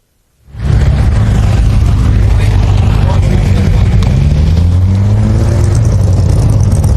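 An AC Ace fitted with a Cobra engine revs loudly and close by, a steady, full-bodied engine roar that starts abruptly and holds with shifting pitch, heard alone at a car meet.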